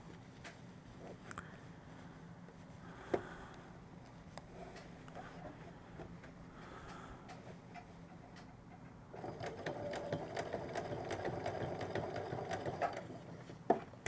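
A sewing machine stitches a skirt lining, its rapid steady needle whir running quietly at first and then louder and faster for the last few seconds, with no talk.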